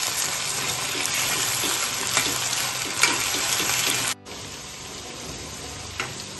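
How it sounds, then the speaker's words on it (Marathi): Green chillies and potatoes frying slowly on a low flame, a dense, even sizzle with faint crackles that drops abruptly to a quieter simmer partway through. "तर हे मंद आचेवर चांगलं फ्राय करून घ्यायचं"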